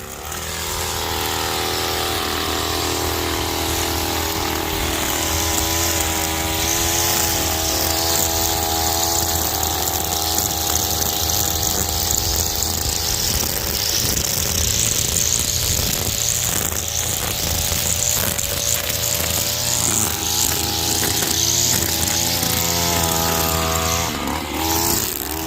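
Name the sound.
string trimmer cutting weeds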